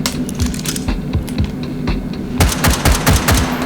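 Quick, close rifle shots and clacking mechanical handling in the VR shooter H3VR, a loose burst of sharp cracks early on, then a second denser string of shots toward the end.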